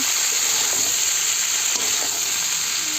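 Mixed winter vegetables with turmeric and salt sautéing in a pan for khichuri, an unbroken loud hiss of frying with faint occasional stirring underneath.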